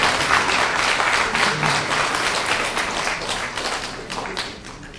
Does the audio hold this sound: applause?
yes